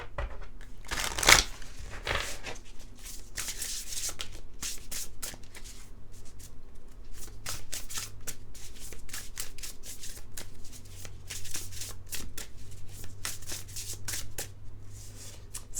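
An oracle card deck being shuffled by hand: soft riffling and papery slides repeat steadily at close range, with a sharp crisp burst near the start and no talking.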